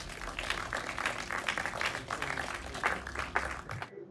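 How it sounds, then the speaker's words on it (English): An indoor audience at a film festival opening night in a cinema claps in steady, dense applause lasting a few seconds before cutting off abruptly. "Please, by all means, give yourselves a round of applause again."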